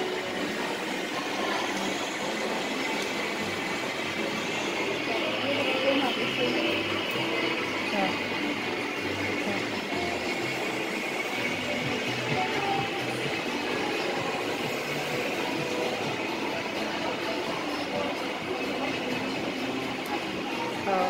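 A train rolls past at Xperia Mall in Palava City, giving a steady, continuous rumble with rail noise that holds at a constant level for about twenty seconds, with faint voices in the background.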